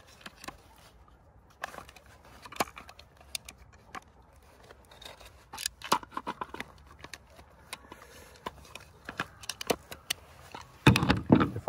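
Scattered sharp snips and clicks as trimmer line is cut by hand for a Stihl FS 560 C-EM brushcutter head, close and intermittent, growing busier with handling rustle toward the end.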